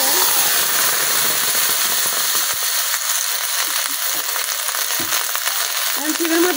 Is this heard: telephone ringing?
no